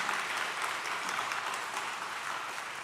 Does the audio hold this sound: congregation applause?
yes